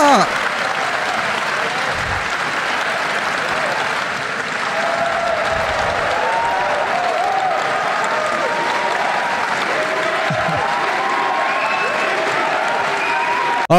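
A large crowd applauds at length during a political address in the Philippines, a sustained, loud wash of clapping with a few scattered cheers and some voices beneath it.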